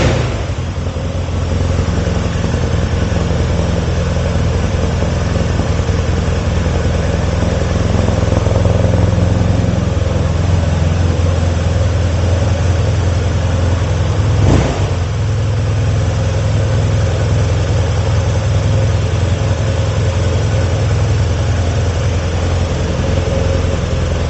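A 2018 BMW R nineT Cafe Racer boxer engine with an Akrapovic exhaust idles steadily and loudly nearby, a continuous low rumble throughout with a brief click midway and no talk.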